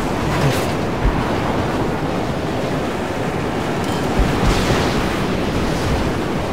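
Wind roars in the desert wasteland of the Mad Max video game, a loud, steady rushing gust with brief swells and faint thuds, heard alone without talk.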